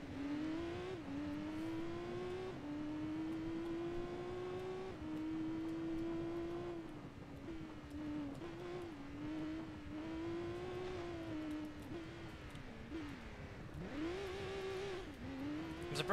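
A race car engine in Gran Turismo 2 drones steadily on a canyon track, its pitch rising and dipping through gear changes and corners over a constant whir, with no voices.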